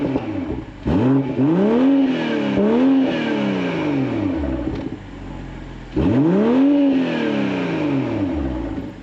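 A BMW M440i convertible's turbocharged straight-six engine fires up and revs twice, loud nearby throttle blips that rise and fall between a steady idle.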